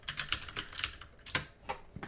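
Someone types quickly on a computer keyboard, making a close run of crisp, uneven key clicks with short pauses between bursts and no talk.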